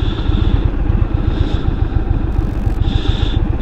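Engine of a 2022 Indian Super Chief Limited motorcycle with stock exhaust, a steady low rumbling idle close by that stays constant throughout with no talk.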